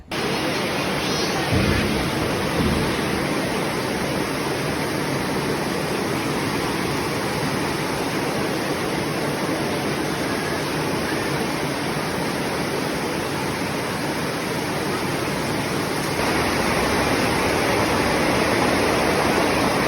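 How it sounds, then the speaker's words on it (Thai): Heavy rain pours down near a temple, Wat Bang Chak, as a dense, steady, loud hiss that holds unbroken for the whole stretch, close and enveloping, with no voices standing out. "ฝนตกแรงแล้วจะรอดทันไหมเนี่ย"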